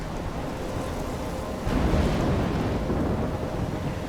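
Thunderstorm with heavy rain and wind in the game Life Is Strange, a steady broadband roar that swells louder partway through, like a rumble of thunder rolling under the downpour.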